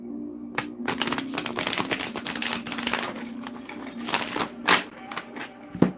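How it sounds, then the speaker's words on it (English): Cards are shuffled by hand for a nighttime card reading in a dense run of rapid riffling clicks, then a few quieter taps and a final sharp snap close to the microphone. "One shuffle."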